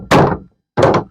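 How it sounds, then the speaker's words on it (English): Two loud, close hammer thunks, spaced about two-thirds of a second apart with silence between, as a hammer strikes while canvas is stretched over a wooden frame. "Bang a little bit on the old hammer."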